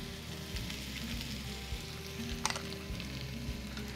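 Vegetables with tomato paste, red chili flakes, dried rosemary, garlic and bouillon cooking in a pan: a steady close sizzle and crackle with occasional soft stirring clicks, no talking.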